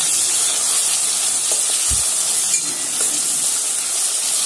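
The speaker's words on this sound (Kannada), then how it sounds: "ಈಗ ಚೆನ್ನಾಗಿ ಎಣ್ಣೆಯಲ್ಲಿ ಫ್ರೈ ಮಾಡ್ಕೊಬೇಕು" Onions and strained green tomato water fry in oil for a raw tomato and brinjal curry, giving a steady close hiss throughout with one soft thud midway and no voices.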